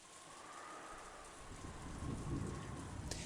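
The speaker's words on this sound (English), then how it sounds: "Just like the previous night, the rain was falling in earnest." Steady rain falls in the visual novel game Umineko, a soft, even hiss with a low rumble building slightly toward the end, quiet and with no speech.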